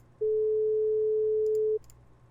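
A single pure synthetic 432 Hz tone generated in Audacity sounds steadily for about a second and a half, smooth and constant, before stopping abruptly over a quiet hum.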